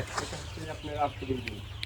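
Hybrid Sonali chickens cluck softly on a poultry farm, a few faint scattered calls heard beneath someone talking nearby.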